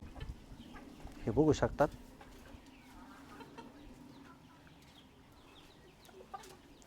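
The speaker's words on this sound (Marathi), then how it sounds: "या पूर्ण जागेत अशा आपल्या कोंबड्या फिरत असतात" Free-roaming chickens on a farm compound give a brief burst of loud clucking near the start, followed by faint, sparse calls, with someone speaking at times.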